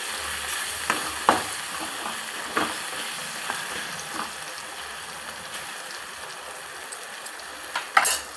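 Tomatoes fry in a pan with a pinch of salt, giving a steady, close sizzle broken by occasional scraping knocks from stirring.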